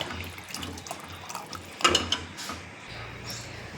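Water splashes and trickles in a sink as chopped coriander is rinsed, with small clinks and a brief sharper clatter partway through.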